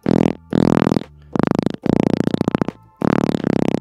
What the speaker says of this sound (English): That is a nice fart sound.